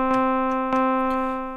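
Elektron Monomachine VO-6 speech synthesis gives a steady, buzzy synth tone with a fixed pitch, pulsed by a few soft, rhythmic vowel-like bursts.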